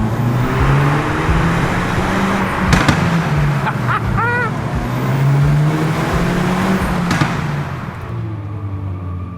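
A Hyundai i30 Fastback N engine is heard in Monaco, loud and steady, with rising and falling revs, a couple of sharp pops and a brief whine as it pulls away, then the sound fades at the end.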